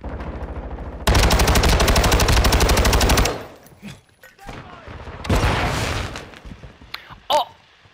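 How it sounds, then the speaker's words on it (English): Rapid video-game gunfire rattles loud and continuous for about two seconds, then drops away, followed by a second softer burst of shooting and a sharp bang near the end, with a flashbang in the mix of the fight. "I just killed that man with a flashbang!"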